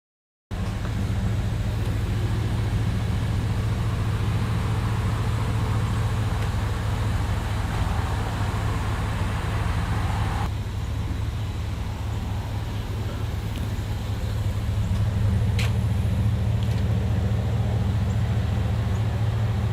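A bone-stock third-generation Toyota 4Runner with a 3-inch lift cruises along, its steady low engine drone and road rumble continuous and fairly loud throughout, with no talking.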